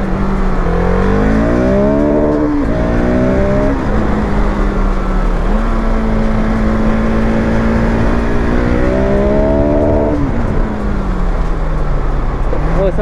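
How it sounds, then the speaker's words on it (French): Close and loud, a 2022 Husqvarna 701 Supermoto single-cylinder motorcycle climbs through its gears in repeated rising revs, each shift dropping the pitch, then holds a steady cruise before accelerating again and easing off. "je vais faire une petite accélération là, vous allez voir"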